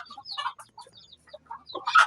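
Chickens cluck and chatter close by, several short calls overlapping across a couple of seconds, with a louder squawk near the end.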